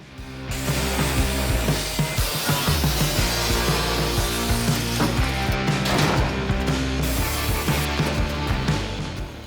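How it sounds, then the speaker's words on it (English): Rotten floor pan being cut out of a Mk1 Ford Escort during restoration, a loud, continuous harsh grinding and rasping of metal cutting that runs steadily for several seconds with no talk. "now it's time to cut this rotten floor out"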